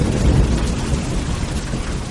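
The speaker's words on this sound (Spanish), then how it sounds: "y una vez más un trueno realzó su grito" Deep thunder rumble as a sound effect in a Spanish-language tribal sci-fi audio drama, a low, continuous roll filling the whole stretch with broadband rain-like hiss above it and no voices.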